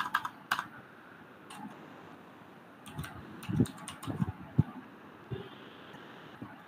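Keys clack on a computer keyboard as code is entered, irregular bursts of close taps and short runs separated by quiet gaps over a faint fan hum.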